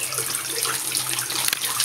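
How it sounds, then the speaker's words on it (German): Tap water runs steadily from a sink fitted with separate hot and cold faucets, a close, continuous splashing hiss with no voices over it. "Aber da ist heißes Wasser und da ist kaltes Wasser."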